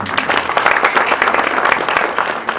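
Audience applause from a crowd in a lecture or talk setting, steady dense clapping filling the whole stretch at a fairly loud level, with no speech over it.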